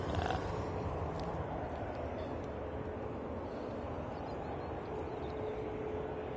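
A Boeing 767 takes off from Manchester Airport, bound for Turin, making a loud, steady jet roar that stays close and constant throughout, with no voices.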